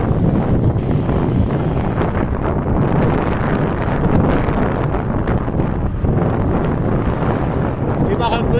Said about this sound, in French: Il fait froid, il y a du vent facial.